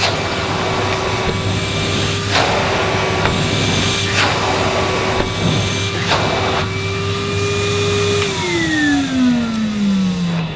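A Numatic Henry vacuum cleaner runs on high power with a steady droning motor whine and whooshing airflow, close and loud, then the pitch sweeps downward near the end.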